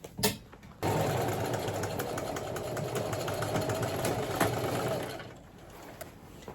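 A sewing machine stitches a seam in upholstery fabric, running in one continuous loud whirring burst of about four seconds before stopping, with a few faint handling clicks before and after.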